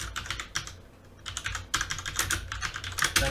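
Rapid typing on a computer keyboard during a Photoshop editing session, with clustered bursts of close, crisp key clicks, a short pause near the one-second mark, then busier tapping to the end with no speech.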